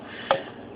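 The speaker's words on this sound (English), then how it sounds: "Now I'm adding the red kidney beans" Red kidney beans drop into a pot of steaming couscous cooked like Jamaican rice and peas, a single short soft thud and splash from close by in a quiet kitchen.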